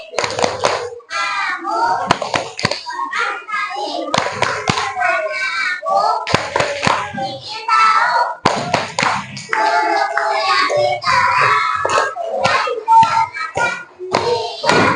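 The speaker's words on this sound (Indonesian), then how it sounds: "Tepuk konsentrasi." A classroom of children performs rhythmic concentration clapping, loud patterned bursts of hand claps close by, with children's voices chanting along throughout.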